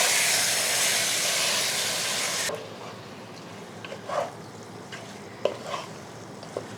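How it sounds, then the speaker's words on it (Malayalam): Chicken and yogurt stirred in a pot: a loud steady hiss and sizzle that suddenly drops away, followed by quieter scattered scrapes and soft taps of the spoon. "ഒന്ന് ഇളക്കി കൊടുക്കുക."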